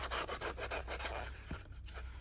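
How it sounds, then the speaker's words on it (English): Rhythmic rubbing and rasping strokes of an abrasive disc against paper, close and quiet, repeating quickly for a couple of seconds. "Another great use for your sanding disc thingies."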